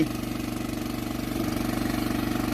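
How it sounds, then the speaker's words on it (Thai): An engine-driven water pump runs steadily out in rice-field country, draining water to catch fish, its loud, close, even chugging holding one pulsing rhythm throughout with no voices. "เครื่องสูบน้ำา"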